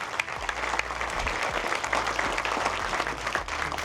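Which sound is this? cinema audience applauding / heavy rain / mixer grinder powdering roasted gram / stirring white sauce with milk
cinema audience applauding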